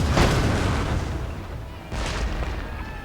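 Artillery barrage in Napoleon Total War, a siege battle: two deep booming volleys, one at the start and another about two seconds later, each rolling out over a rumbling low background with no voices.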